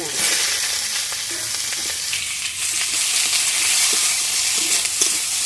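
Cumin seeds and chili spit and sizzle loudly in oil in a pan for chicken kosha, a bright, crackling hiss with a few stirring scrapes, close and continuous.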